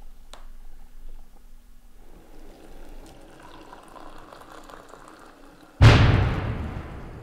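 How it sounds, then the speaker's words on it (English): A quiet rustling night ambience in eastern Ukraine, then a sudden loud blast that decays slowly, a nearby rocket-propelled grenade explosion, with a faint sharp gunshot pop earlier. "There's been gunfire and exchanges of rocket-propelled grenades all night"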